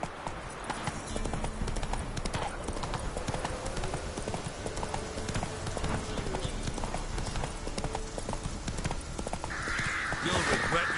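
Horse hooves gallop in a steady, rapid clip-clop beat throughout a video game ride, with in-game voices and ambient sounds layered over the running hoofbeats.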